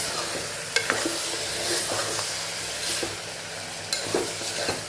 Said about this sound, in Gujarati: સરસ આપણે મિક્સ કરી લેવાનું છે પહેલાં